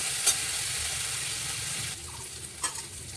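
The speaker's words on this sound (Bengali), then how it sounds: "এবার মশলাটাকে ভালো করে কষিয়ে নেব।" Spice masala with turmeric sautés in oil in a wok, a continuous hiss of frying broken by a few short scraping stirs toward the end.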